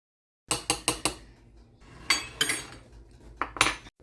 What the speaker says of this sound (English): you just want to get the lemon zest and the grated cheese really well blended together